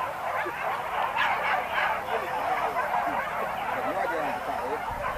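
Hunting dogs during a wild boar hunt, a dense chorus of excited yelping and barking from several dogs, continuous and fairly close, with a voice speaking at times over them.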